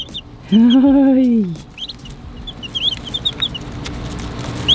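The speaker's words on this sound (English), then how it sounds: "We've got our little chicken coming from back over there." A chicken lets out one loud, drawn-out call close by, followed by scattered small bird chirps over low background noise; a voice briefly speaks.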